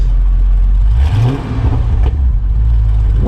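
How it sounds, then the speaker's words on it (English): A Lexus IS F car engine idles loudly, then gives a couple of short, light revs that rise and settle back, close up. "give it a few like baby revs."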